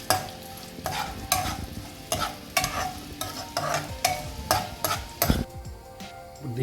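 Lentils and dried red chillies fry in a hot pan, stirred in repeated scraping strokes that come every half second or so over a steady sizzle, close and fairly loud, without talk.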